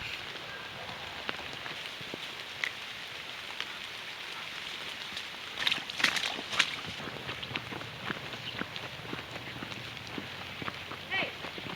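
Light rain patters on surfaces during a woodland walk in Cosby, Tennessee, a soft steady hiss with scattered footsteps and rustling, louder bumps around the middle, and people talking faintly nearby.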